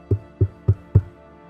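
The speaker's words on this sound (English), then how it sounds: "you hear a knock on the door" Four knocks on a door, evenly spaced, each a close, solid thud with a short decay, followed by quiet.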